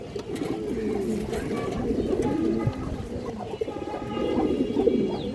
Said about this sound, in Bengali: এই দেখেন দর্শক নটটা বড় সাইজের একটা কবুতর